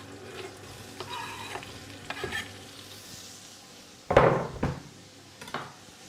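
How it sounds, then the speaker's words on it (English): Diced carrots and lamb sauté in a pot for a Jamaican gungo peas stew: a soft steady sizzle under occasional stirring scrapes and a louder clatter of utensil against the pot partway through. "Now we're just going to let it saute for a little while"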